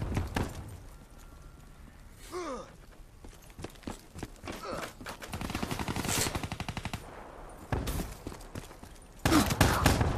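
Shotgun fire in an online shooter video game: several sharp blasts and rapid bursts of gunfire mixed with footsteps and clattering, with a player talking intermittently over the action.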